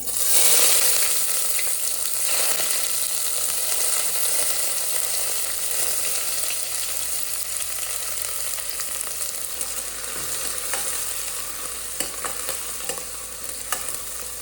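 Bay leaf, cinnamon, cardamom, clove and chopped onion fry in oil for Karnataka avarekalu pulao, a continuous close sizzle with faint stirring clicks and scrapes throughout, steady and unbroken with no voices.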